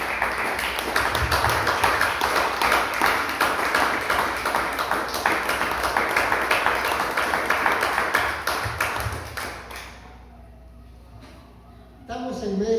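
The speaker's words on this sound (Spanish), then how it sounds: "Déselo fuerte el aplauso." A church congregation applauds during a sermon, a loud continuous burst of clapping that lasts about ten seconds before fading out into near quiet, with a brief sound returning at the end.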